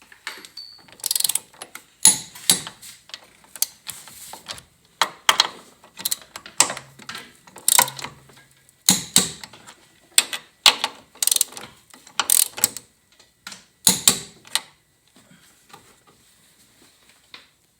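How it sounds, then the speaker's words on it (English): A ratchet wrench torques the top hat bolts on a Honda Civic Type-R FK8 during a lowering spring install, giving repeated close bursts of rapid clicking separated by short pauses. "these bolts that goes to the top hat, they are torqued at between 45 and 47 foot-pounds"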